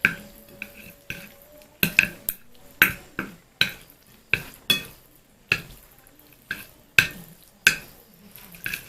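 Green chili flavored Indomie Goreng instant noodles being mixed with utensils, giving a series of sharp clinks and scrapes against the bowl at a steady, slightly uneven rhythm, close and clear with no talking.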